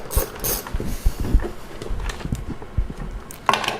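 Screws being loosened on the air filter housing of a Fiat 500 Abarth, close clicking and scraping of a hand tool against metal and plastic, with irregular small knocks and ratcheting ticks.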